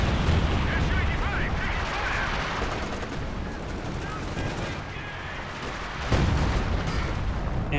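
Battle noise from the strategy video game Company of Heroes 2 keeps up a steady roar of gunfire and explosions, with rumbling blasts and crackling shots packed densely throughout.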